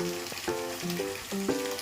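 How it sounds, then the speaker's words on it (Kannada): Ginger garlic paste sizzles and crackles in a hot pan while being roasted for tomato gojju, with short stirring scrapes every half second or so over a steady fry. "ಶುಂಠಿ ಬೆಳ್ಳುಳ್ಳಿ ಪೇಸ್ಟನ್ನು ಹಾಕೋಬೇಕು. ಅದು ಹಸಿ ಸ್ಮೆಲ್ ಹೋಗೋ ತನಕ ಚೆನ್ನಾಗಿ ರೋಸ್ಟ್ ಮಾಡಬೇಕು."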